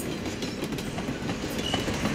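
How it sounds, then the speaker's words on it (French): A train rumbles past on the rails with a steady, dense clatter of wheels, fairly loud and continuous throughout. "Tous les jours, une dizaine de trains sillonnent la voie ferrée"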